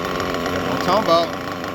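A budget RC nitro engine during break-in, restarting after loading up and cutting out, runs with a dense buzzing drone that rises briefly in pitch as it revs, fairly loud and close, with voices over it.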